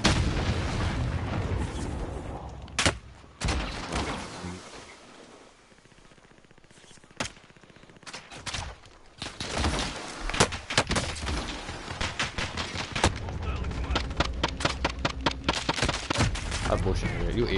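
Video game gunfire in rapid bursts and single shots, loud and dense, with a brief lull before heavy firing resumes and builds steadily.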